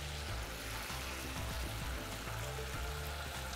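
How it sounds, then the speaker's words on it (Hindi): Water draining off soaked fenugreek leaves in a home kitchen, a steady close rush and trickle of pouring water filling the whole stretch without pause. "इसका इस तरीके से पानी निकाल के"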